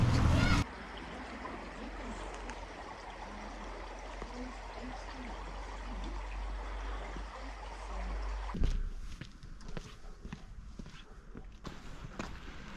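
River Luda flowing in a steady broadband rush, with children playing faintly in the background, distant thumps and calls, and a short burst of louder handling noise at the start.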